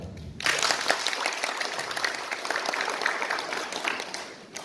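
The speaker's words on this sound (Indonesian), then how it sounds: "Tepuk tangan" A burst of applause starts abruptly and continues steadily from a crowd at a training closing ceremony in West Sumatra, dense and sustained, fading slightly at the end.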